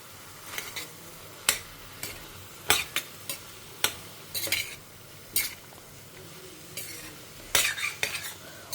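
A spoon stirs a ground paste of coconut, green chilli and curry leaves into a pot, sounding as sharp, irregular metal scrapes and clinks against the vessel over a low background, with no talking.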